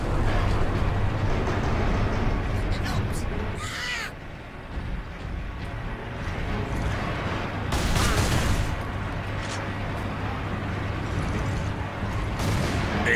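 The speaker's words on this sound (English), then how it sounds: "Priming gun battery." Gun battery in Warhammer 40K Space Marine pounding out volleys over a steady mechanical drone, with harsh crackling bursts and loud blasts, densely layered battle noise, close and sustained, no voices.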